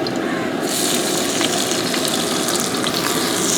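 Steady loud sizzle of four medium onions frying in hot coconut oil, a continuous hiss that swells slightly after the first moment.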